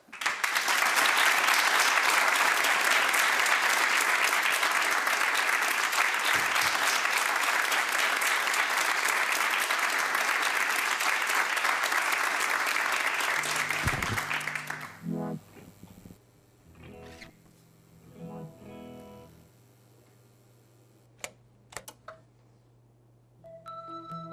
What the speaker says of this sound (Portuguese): um aplauso para o Esperana no dia em que o rei fez anos